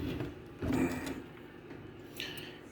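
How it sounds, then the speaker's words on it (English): A 1978 Marantz 1810 cassette deck is tipped up onto its side, giving a dull handling clunk near the start, then faint shuffling and a brief higher scrape, all close and quiet. "we're gonna have to stand this unit up on its side"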